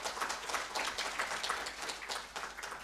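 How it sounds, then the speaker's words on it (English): An audience at an economic summit gives a round of applause, a dense and steady patter of many hands clapping at moderate, somewhat distant volume. "I really want to thank and request you for a round of applause"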